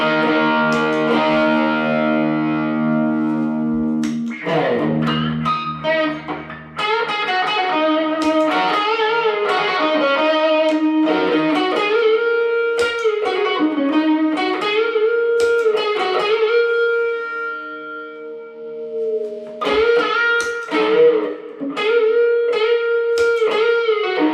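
An electric guitar plays through a Yamaha THR5 amp with a Tube Screamer-style pedal set low as a clean boost, giving sustained chords and then melodic single-note lines with a slightly driven, thick tone, close and loud.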